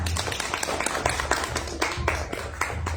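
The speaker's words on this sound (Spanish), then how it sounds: "nos gustaría brindarle un fuerte voto de aplausos para nosotros" A congregation claps for a speaker at a religious conference, with dense, uneven hand claps over a low steady hum, fairly loud and continuous for the whole stretch.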